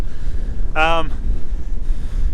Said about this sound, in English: It is windy, really windy.